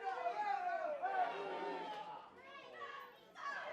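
Wrestling crowd at the Largo Venue in Rome, a mix of excited voices and chatter rising and falling in a steady, continuous roar with higher-pitched shouts standing out.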